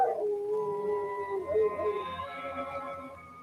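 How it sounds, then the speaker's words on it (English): A dog howls in a 1958 horror film, a drawn-out wavering howl that rises and falls over a few seconds, at moderate loudness against a faint low rumble of background score. "That dog frightens me."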